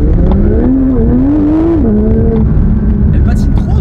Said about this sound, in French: Elle patine trop cette voiture.